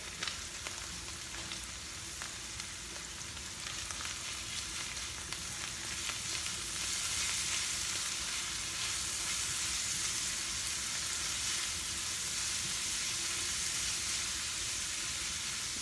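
Ingredients sauté in a pot before rice and pigeon peas go in for arroz con gandules, a dense, even sizzle that carries on unbroken for the whole stretch, close and steady with no voices.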